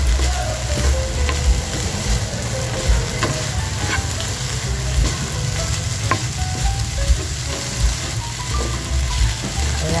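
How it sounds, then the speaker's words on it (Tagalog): Ground pork or beef (giniling) sizzles and fries steadily in a pan, cooked as a filling for eggplant omelette. Dense, continuous crackle with a few sharp pops and occasional stirring scrapes, close and fairly loud, no talking. "dito naman sa kabila ay nagluluto tayo ng yung giniling na ating ilalagay sa ating torta"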